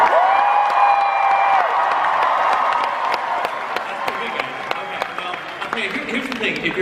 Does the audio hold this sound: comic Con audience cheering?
yes